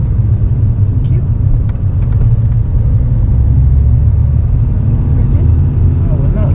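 A lorry driving past a car in busy traffic, a loud low rumble that swells and holds, heard from inside the car with faint voices beneath the engine noise.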